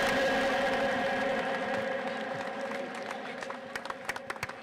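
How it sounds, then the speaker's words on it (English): Crowd at a race track applauding dignitaries, a steady wash of clapping that slowly fades, with a few sharper individual claps near the end. "One more time, round of applause for all of our dignitaries for being up here"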